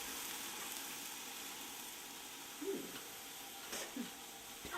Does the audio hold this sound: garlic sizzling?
yes